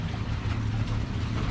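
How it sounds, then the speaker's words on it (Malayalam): A boat approaches across the Banasura Sagar reservoir, a steady low motor drone with wind rumble, close and continuous. "ബോട്ട് അങ്ങനെ മുമ്പോട്ട് വരുന്നുണ്ട്"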